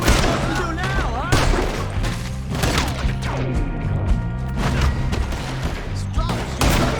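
Dense bursts of rapid gunfire and heavy impacts in Red Dead Redemption 2, with shots overlapping one another throughout, loud and close over a steady musical score.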